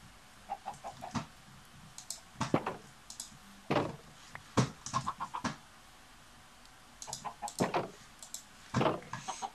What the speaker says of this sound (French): Non, c'est peut-être juste les poules que j'entends.